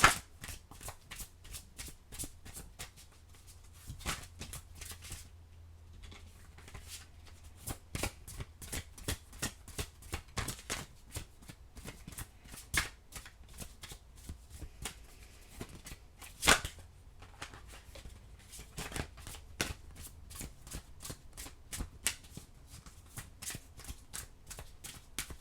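Oracle cards being shuffled by hand in steady repeated riffles and flicks, close and fairly quiet, with a brief pause partway through and no talking.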